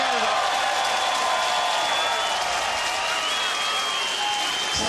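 A large crowd at a Canada vs. USA rugby match applauds and cheers loudly and continuously after a Canada try, with whistles and shouts rising over a dense wall of clapping.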